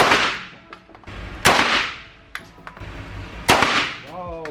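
Gunfire at an indoor shooting range in Istanbul, three sharp, loud reports spaced about a second apart with echoing decay and faint handling clicks between them, ending with a brief voice.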